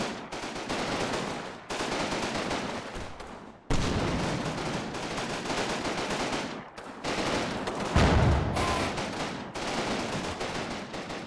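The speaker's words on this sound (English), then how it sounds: "Taking hits from those mortars." Mortar shells and gunfire crash through a chaotic Combat Mission Battle for Normandy fight, with dense, continuous bursts of shooting, repeated heavy impacts and a sharp explosion near the end.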